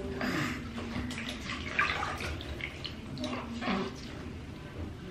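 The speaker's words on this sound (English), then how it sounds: "Here she is taking a bath" A baby splashes in bathwater, with continuous sloshing and irregular splashes, soft and close in a small room, a faint voice underneath.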